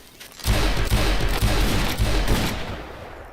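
Gunfire from a revolver in the Garry's Mod game, a dense run of loud, close shots packed together with no talking over them.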